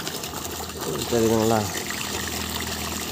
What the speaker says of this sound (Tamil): தண்ணி பாருங்கள் நல்லாவே ஃபோர்ஸாகவே வந்துக்கிட்டுருக்கு